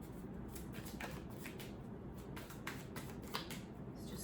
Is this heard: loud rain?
no